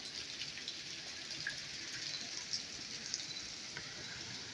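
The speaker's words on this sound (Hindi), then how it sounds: "ये देखिए इस तरह से गिर रहा है पानी" Rainwater leaking into a house during very heavy rain, falling and splashing inside as a steady, continuous watery hiss with small drip accents, moderately close and without talk.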